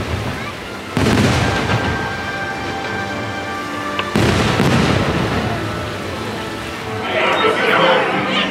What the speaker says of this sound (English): good spot to watch the fireworks